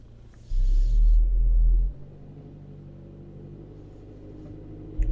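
A 2018 Hyundai Elantra engine with a cylinder misfire from an out-of-spec spark plug, idling as a low, uneven rumble with a louder surge of a bit over a second near the start before settling back to a steady drone.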